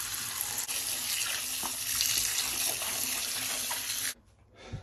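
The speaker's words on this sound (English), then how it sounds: "I will come back to you in a sec after I've washed them with some soap and water." Water running steadily from a tap while Velotoze shoe covers are washed with soap and water, a continuous loud gush that cuts off near the end.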